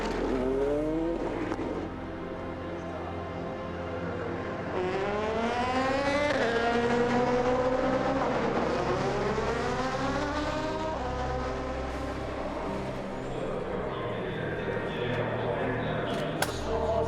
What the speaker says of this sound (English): Alex Lynn, driving car 97, attempts to drive it back to the pits